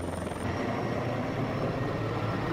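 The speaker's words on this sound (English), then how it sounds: "Fighting helicopter." A firefighting helicopter drones steadily with a low rotor rumble, faint and distant, holding an even level throughout.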